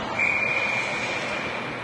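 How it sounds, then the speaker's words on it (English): A referee's whistle at an ice hockey game blows one sustained, fairly loud shrill tone over a constant arena crowd murmur. "play is whistled dead as the puck goes into the Spartan bench"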